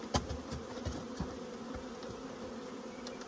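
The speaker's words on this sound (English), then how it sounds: "the bees will crawl up this box into the hive for the second time" A dense, steady hum of a honeybee swarm buzzing together at a hive, with occasional single bees droning closer past the microphone.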